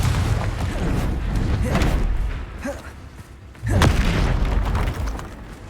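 Confringo explosive spell in the video game Hogwarts Legacy, deep booming blasts and thuds in combat, a loud burst early then a sharp heavy impact midway with rumbling decay.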